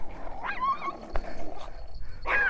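A Doberman Pinscher puppy gives a few short, high yips and whiny barks, close by, with brief pauses between them and no voices.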